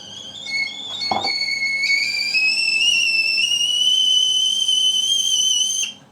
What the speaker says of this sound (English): A whistle kettle.